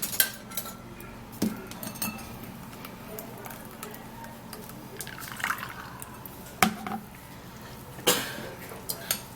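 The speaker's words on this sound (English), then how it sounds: "here is my cucumber juice, and I would love to sieve it into this bowl" Cucumber juice is strained through a sieve into a bowl, with faint trickling and dripping broken by a few sharp clinks of utensils against the bowl, close and fairly quiet, with no talking.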